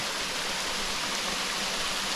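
A steady, dense rush of falling water from a creekside waterfall fills the whole short stretch, loud and close with no other sounds.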